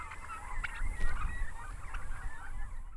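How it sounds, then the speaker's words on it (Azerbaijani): Poultry calling on a six-hectare farm raising chickens and turkeys: a busy chorus of overlapping honking, clucking bird calls, near and steady, with no talk. "Hazırda 6 hektar ərazini əhatə edən fermada toyuq və hind quşları yetişdirilir"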